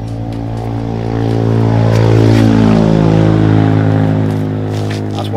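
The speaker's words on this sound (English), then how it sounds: "That's why I don't like bikes anymore. Too loud, one person, all that noise." A loud motorbike passes by, its engine drone swelling to a peak and then fading as it moves away, with no talking.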